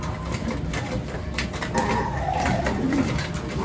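A pigeon cooing inside a loft, soft low coos heard faintly against steady room background noise, with no talking.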